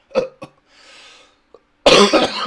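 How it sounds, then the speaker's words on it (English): A couple of sharp close coughs, followed by a short breathy pause, then a louder burst of harsh sound. "that was a real cough"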